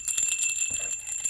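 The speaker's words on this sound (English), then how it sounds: "Witch's bells" Small metal witch bells jingle continuously with bright, shimmering tones, close and fairly loud, with no talking.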